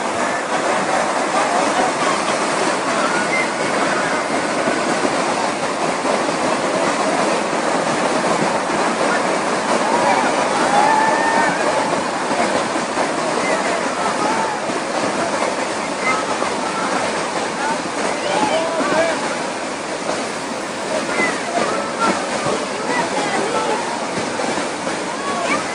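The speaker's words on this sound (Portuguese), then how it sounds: "Olha o volume de água." A large volume of flood water rushing through a desert region, a loud, dense and unbroken roar of churning water that holds steady throughout, close and overwhelming.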